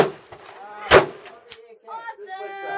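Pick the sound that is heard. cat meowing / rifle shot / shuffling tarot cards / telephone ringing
rifle shot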